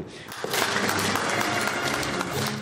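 Audience applauding a singer on a main stage, a dense, steady wash of clapping that swells after a brief quieter start and holds loud throughout.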